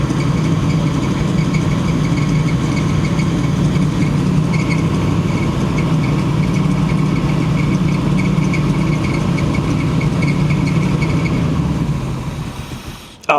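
A 1979 GMC C35 camper truck engine runs steadily with the gas pedal slightly pressed, a loud, continuous close-up rumble that fades slightly at the end, with no talking.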